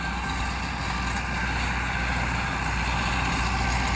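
A tractor works a field being prepared for Sesbania cultivation, its engine a steady, loud, low drone that runs without change and without voices.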